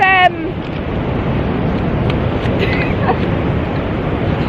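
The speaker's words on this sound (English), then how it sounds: "also got these lovely waves coming in" Waves roll in by a lighthouse on a windy shore, a constant broad wash of surf mixed with gusting wind on the microphone, loud and continuous after a brief opening noise.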